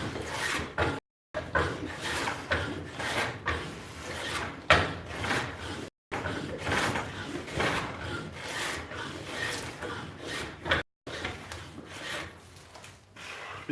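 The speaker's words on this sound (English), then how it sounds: "spotted gum has a lot of curl in it, so you almost always get tear out with hand tools" Hand tool rasping and shaving curly spotted gum while a tool handle is shaped, producing continuous close scraping strokes in an irregular back-and-forth rhythm, fairly quiet, with a few brief silent gaps.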